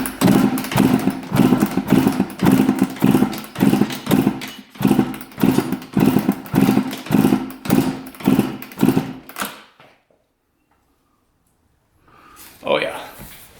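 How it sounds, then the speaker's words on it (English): A 125 dirt bike being kicked over with the throttle held open, about a dozen rhythmic chugging compression strokes close up, followed by a brief silence and a short burst near the end. "Throttle open and we'll give it a couple kicks here."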